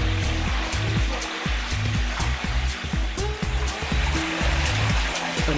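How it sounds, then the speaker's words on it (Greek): Cold water pours steadily from three spouts of a covered marble fountain on Andros in the Cyclades, a loud continuous splashing rush with rhythmic pulsing, heard close and without talk. "Από τους 3 κρουνούς τρέχει χειμώνα καλοκαίρι κρυστάλλινο δροσερό νερό"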